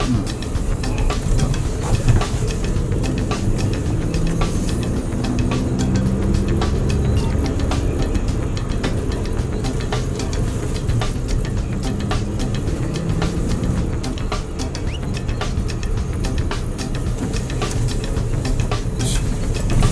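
A Suzuki Jimny JB23 is driven on a road test after a steering adjustment, a continuous loud engine and road drone with tyre rumble and interior rattles throughout.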